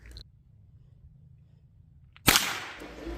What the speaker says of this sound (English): I'm just taking extra shots here for you guys to verify where the rifle is impacting